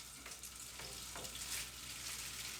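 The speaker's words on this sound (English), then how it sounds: "Now we're going to get the sausage meat in. And we're going to fry it all up." Sausage meat fries in hot oil in a pan, a faint, steady hiss of sizzling with a few light stirring taps, alone without talk.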